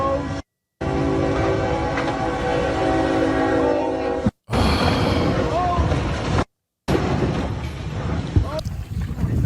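Train passing over tracks beside a road crossing, a loud steady rumble of wagons with horn-like tones, broken by brief gaps in the recording.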